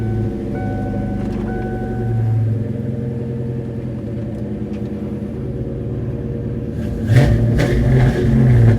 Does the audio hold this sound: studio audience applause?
no